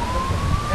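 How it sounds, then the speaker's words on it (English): Emergency sirens wail in the distance, a continuous steady tone under a broad background of crowd and room noise, with no clear voices. "I hear sirens."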